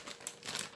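A plastic bag of shredded cheese crinkles softly as it is handled and opened in a kitchen, brief close rustles and crackles at low level with no talking.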